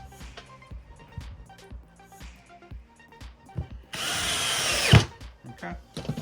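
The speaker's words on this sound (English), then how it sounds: "get them top cut timber and just screw this to the table" A power drill drives screws through top-cut timber into a table, one loud whirring burst of about a second rising to a sharp peak, set among quieter workshop knocks and clatter.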